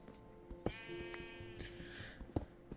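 Sheep bleating in Minecraft, a pair of wavering, nasal cries close by, the second longer, with soft game thumps and ambient clicks around them.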